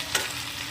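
Mixed vegetables cooking slowly in a pan over a low flame for a dry vegetable dish, giving a soft, steady sizzle with a brief stirring scrape near the start, heard alone.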